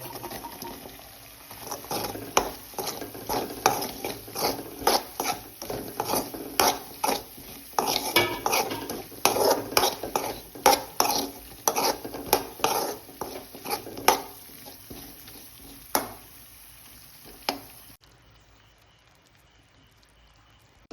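Fried prawns tipped into hot oil for Kerala prawn pickle, followed by repeated scraping and clinking of a spoon stirring in a pan over a soft sizzle, ending in near silence.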